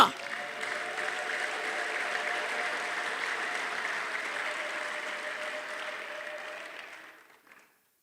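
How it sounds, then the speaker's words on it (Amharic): A church congregation applauds during a sermon, a sustained wash of clapping that starts sharply, holds steady at moderate distance with faint crowd murmur beneath, then fades out near the end. "እስቲ አጨብጭቡለት።"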